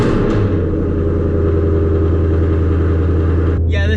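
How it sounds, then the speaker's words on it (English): A Ford Mustang GT engine runs loud and close just after a cold start, holding a steady high idle with a deep throbbing rumble that shifts slightly near the end. "So let's get some heat into this motor, get a little cold start up"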